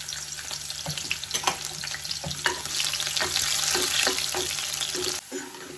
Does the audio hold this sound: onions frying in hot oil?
yes